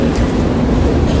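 A London Underground metro train at Baker Street gives off a steady, loud low rumble with a broadband roar, continuous and close, with no voices.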